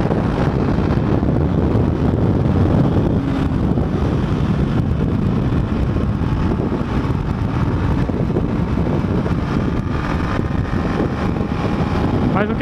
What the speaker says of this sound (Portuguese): o vento é muito forte,